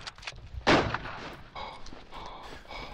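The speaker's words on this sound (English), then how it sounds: "someone's firing at me" Gunfire in the WWI shooter Verdun, one sharp loud report early on followed by quieter distant shots and battlefield rumble.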